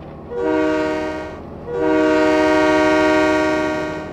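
Diesel train horn in Train Mechanic Simulator 2017, two loud sustained blasts, a short one followed by a longer one, over a low rumbling engine.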